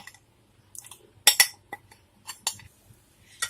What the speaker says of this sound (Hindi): अब इसमें ये जो चिकन के पीस को मैरिनेट करके रखा था, हाफ आवर हो चुके हैं, इसको ऐड कर दूंगी